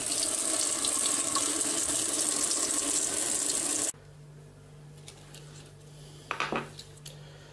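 Hot water runs steadily from a tap onto cardboard for about four seconds, then cuts off, followed by a few quiet wet handling sounds and a brief clatter near the sink.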